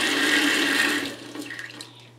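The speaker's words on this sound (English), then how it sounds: "The water is just going down." Water in a backed-up toilet on a septic line draining away, a strong rushing gurgle that abruptly quiets into faint trickling and dripping, alone without talking.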